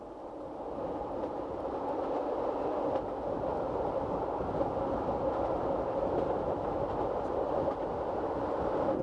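Metre-gauge Jura railway train rolling across a 246-metre concrete viaduct built in 1966, heard as a steady, continuous rumble and rolling rail noise from start to finish with no speech.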